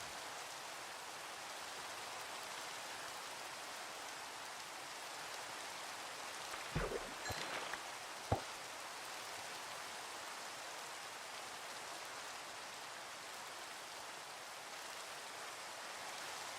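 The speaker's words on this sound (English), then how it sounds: "I don't know why it's raining so often." Rain falls steadily in the video game Minecraft, a constant soft hiss throughout, with a few brief clicks breaking in midway.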